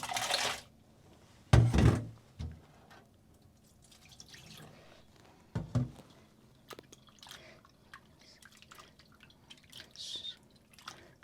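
Soya chunks rinsed in cold water in a kitchen, with close splashes, drips and sloshing in bursts separated by quieter handling sounds.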